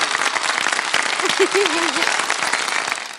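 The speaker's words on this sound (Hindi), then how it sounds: "बहुत सारी तालियां बजा दें इन बच्ची के लिए" A studio audience applauds a little girl during a children's segment of a television show. Dense, steady clapping fills the whole stretch, with voices and a brief tonal squeal mixed into the crowd noise.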